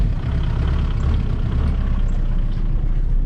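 A Volkswagen Mark IV TDI diesel engine idles with a steady, heavy low rumble that some compare to a tractor, close and continuous with no talking over it.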